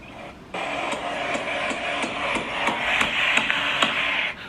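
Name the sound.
hammering from the bedroom, played video recording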